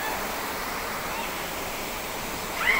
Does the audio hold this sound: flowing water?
yes